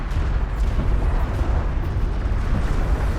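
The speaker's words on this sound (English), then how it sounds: "Dang it, artillery! Your rounds are falling short there." Artillery shells exploding in the strategy game Homeworld: Deserts of Kharak, a dense, continuous rumble of heavy blasts and booms, loud and close, with no clear gaps between impacts.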